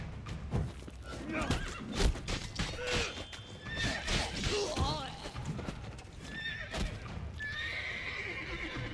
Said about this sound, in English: I'm stuck between two horses here